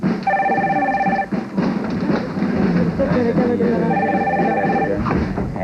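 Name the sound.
telephone bell ringing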